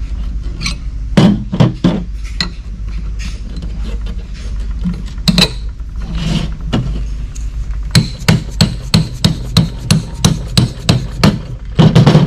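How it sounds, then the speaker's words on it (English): Sharp metallic hammer blows drive bolts into a steel Samurai transfer case cradle, scattered at first and then in a quick steady series, ringing close and loud. "and typically it's very common to hammer them in."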